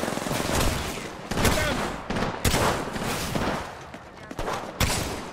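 Rapid bursts of gunfire in the video game Apex Legends during a firefight, repeated loud close shots in clusters with brief gaps between volleys.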